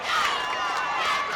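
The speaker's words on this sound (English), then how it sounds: "Beech Grove crowd is up. Scecina crowd is up." A high school football crowd roars in a sustained, distant wash of cheering and shouting as Beech Grove and Scecina supporters rise together at a close game.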